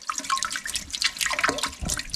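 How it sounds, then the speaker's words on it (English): Water rushes and splashes through a toilet fill valve being flushed clean of debris with the supply just turned on, a steady close hiss with bursts of splatter throughout. "I've just got the water just turned on, but that's flushing that valve out."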